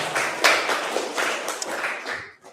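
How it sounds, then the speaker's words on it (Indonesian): A short burst of audience applause for a guest speaker at a talk, scattered claps rising and fading away within a few seconds. "boleh kasih tepuk tangan buat narasumber kita siang hari ini"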